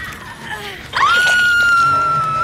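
A survivor's scream in the Dead by Daylight horror game rises suddenly to a sustained, piercing, steady cry that holds loud for over a second amid background game ambience.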